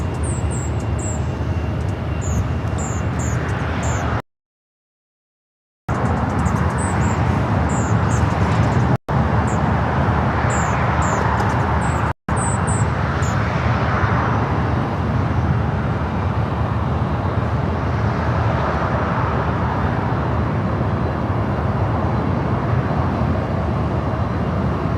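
Jet airliner passing over Los Angeles International Airport, a broad steady roar that fills the whole stretch with brief dropouts, while faint birds chirp and distant traffic hums underneath.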